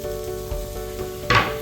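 Cut green beans and green chillies sizzle in a Kerala-style cheenachatti, a steady close hiss with a louder burst near the end as they are stirred in.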